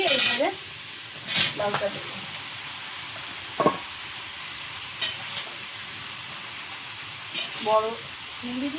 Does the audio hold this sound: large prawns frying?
yes